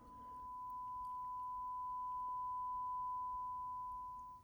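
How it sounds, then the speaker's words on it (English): A steady, unbroken 1 kHz sine test tone plays through a speaker from an XVIVE AT-1 setup, holding one even pitch at constant level for the whole stretch with faint background hiss. "kilohertz tone,"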